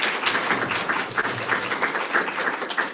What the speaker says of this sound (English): Many applause from the audience in case it doesn't go to the mic